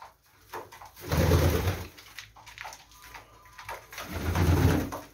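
Racing homing pigeons, late-hatched 2020 birds, cooing in a loft, with two fuller low cooing bouts near and moderately loud and quieter rustling between them.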